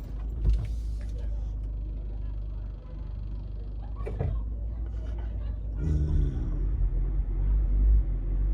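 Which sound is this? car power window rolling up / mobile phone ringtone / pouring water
car power window rolling up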